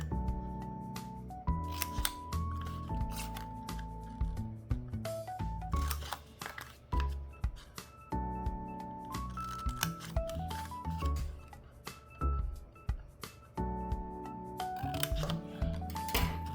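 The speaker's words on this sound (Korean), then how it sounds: "이 빨간 선만 가위로 잘라주도록 해요." Scissors snip through paper in quick, crisp cuts along a red line while making an origami keycap, the clicks of the blades repeating unevenly under a loud background music track.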